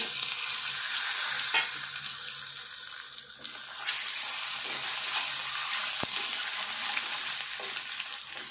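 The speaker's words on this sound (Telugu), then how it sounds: "ఇట్లా కొంచెం ఇదంతా కూడా మంచిగా ఫ్రై కావాలి ఎగ్గు" Egg frying in a pan alongside a Telangana-style potato fry, giving a steady close broadband sizzle throughout with a few soft stirring clicks and no talking.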